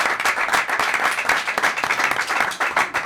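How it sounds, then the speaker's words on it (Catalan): A TV studio audience breaks into steady, dense applause for a guest, with many close hands clapping continuously and a few faint voices underneath. "també es mereix un aplaudiment per..."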